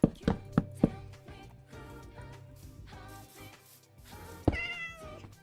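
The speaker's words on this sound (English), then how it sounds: "What's up, cat?" A cat meows several times near the microphone, with a few sharp knocks or taps early on and a louder cry near the end, over a quiet indoor background.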